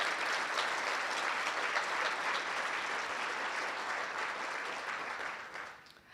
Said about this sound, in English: let's have a big round of applause for her.